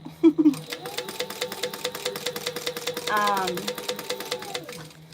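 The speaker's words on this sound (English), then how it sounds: "I am sewing." A sewing machine stitches in a fast, even run of close mechanical clicks. It is close and fairly loud, and a brief voice is heard near the start.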